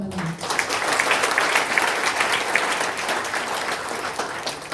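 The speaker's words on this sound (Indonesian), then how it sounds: "Tepuk tangan teman-teman." Steady applause from a crowd, dense clapping sustained throughout at moderate loudness.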